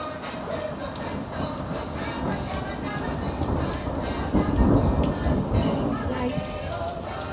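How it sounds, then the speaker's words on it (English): Heavy rain pours steadily in Southern California while thunder follows lightning, a low rolling rumble that swells in the middle under the constant close hiss and patter of rain. "Thunder follows lightning."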